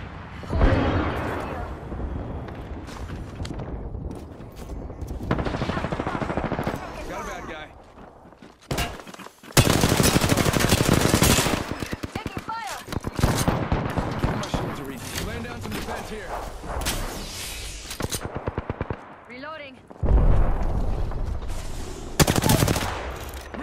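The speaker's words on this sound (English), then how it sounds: "I'm getting shot at." Bursts of automatic and single-shot gunfire in the Apex Legends video game, loud and close, come in repeated volleys separated by short quieter gaps, with game voice lines and spoken callouts between and over the shots.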